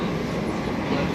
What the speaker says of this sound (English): Final train of the trip.